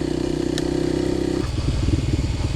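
A Kawasaki KLX300 dirt bike engine runs steady and loud up close while riding Missouri Ozark creeks, then the tone drops and becomes rougher with crackling, clattering texture.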